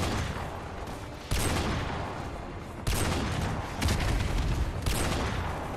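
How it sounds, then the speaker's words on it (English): Dense, continuous battlefield gunfire with heavy booming blasts and rocket impacts in Call of Duty: Modern Warfare 2 Remastered, fighting near the Washington Monument; loud bursts punctuate a constant roar of shooting. "We are taking fire at the Washington Monument."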